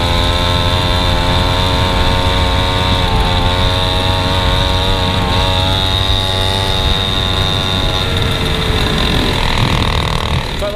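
A pocket bike fitted with an FMF exhaust runs loud and continuous, its buzzing engine note rising and falling as it makes repeated passes back and forth nearby, with no talking.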